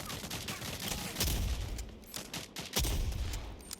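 Gunfire in the video game Texas Chainsaw Massacre, heard as loud, dense volleys of shots over a constant noisy game background, with two heavier blasts standing out.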